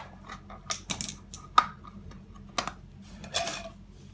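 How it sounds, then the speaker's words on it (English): Small flathead screwdriver prying the cap off a Babyzen Yoyo stroller rear wheel, a series of close, sharp plastic clicks and scraping taps at irregular intervals, with one louder snap partway through. "you're just gonna get in the side and pry it up, and then it pops off"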